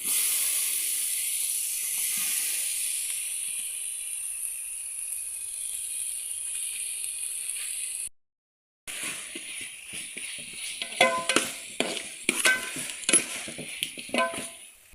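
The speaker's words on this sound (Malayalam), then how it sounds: "നല്ല രീതിയിൽ മിക്സ് ചെയ്ത പച്ച മണവും മാറണം വരെ ഒന്ന് ഇളക്കിക്കൊണ്ടേ ഇരിക്കുക." Chilli, garlic paste and tomatoes frying in a pan while being stirred for a chicken biryani, a steady close hiss for about eight seconds, a brief cut to silence, then quieter sizzling broken by scraping spoon strokes.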